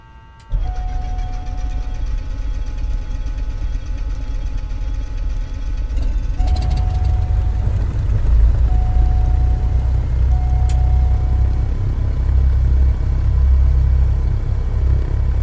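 A Diamond DA40 XLS aircraft engine in a flight simulator cranks and catches after a brief quiet start, then settles into a loud, steady, close rumbling idle that continues throughout.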